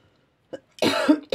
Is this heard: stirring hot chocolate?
no